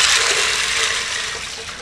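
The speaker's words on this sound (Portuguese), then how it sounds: "Coloque o feijão para cozinhar. Vai a água." Water is poured into a pot of beans for cooking feijão com costelinha, a loud, steady rushing splash that eases slightly toward the end.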